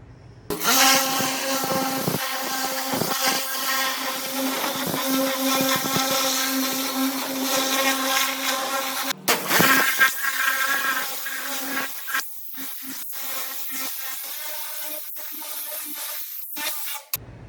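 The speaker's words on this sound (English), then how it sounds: "So I just finished the first pressure washing of the Bronco" A pressure washer blasts a 1971 Ford Bronco with a loud, steady hissing spray and a droning pump tone, broken by a brief pause before the jet resumes and wavers.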